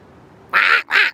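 A person imitates a distressed duck with two loud, harsh nasal quacks in quick succession, close and alone.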